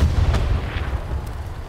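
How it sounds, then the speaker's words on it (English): Tank cannon fire in a World War II video game battle between an M4 Sherman medium tank and a Panzer IV: a sharp blast near the start, then low rolling rumble that holds steady and slowly fades, with no voices. "That is the medium Sherman and the Panzer IV contesting."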